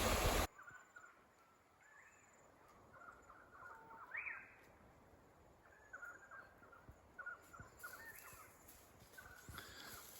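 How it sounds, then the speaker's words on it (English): Birds call from the trees on Magnetic Island in Queensland, with faint, scattered chirps and caws repeating through a quiet outdoor hush over about ten seconds. "Amazing, all the bird calls in the trees, and I can't identify most of them."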